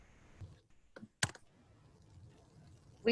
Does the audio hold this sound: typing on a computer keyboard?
yes